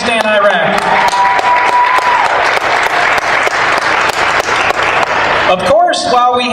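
Loud, sustained applause from an outdoor crowd at an all-American picnic honouring troops, dense clapping filling several seconds before fading out as a voice begins to speak at the end.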